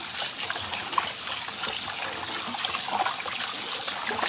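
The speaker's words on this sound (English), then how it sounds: "So now I'm just washing it off." Steady hiss of tap water running over raw chicken as it is rinsed, continuous and close with slight splashing variations.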